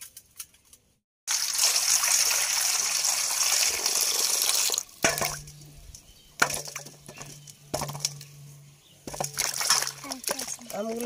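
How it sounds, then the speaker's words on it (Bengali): Half-ripe green mangoes washed in water, with running water, splashing and sloshing up close, then pauses, a wooden knock and handling, and a voice speaking at moments. "তো আমগুলো প্রথমে ধুয়ে নেব।"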